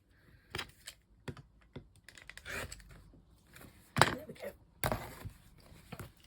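A rotary cutter or blade slices through the end of folded quilt fabric on a cutting mat, giving a run of close, dry clicks, scrapes and thumps with a few sharper bursts and brief pauses.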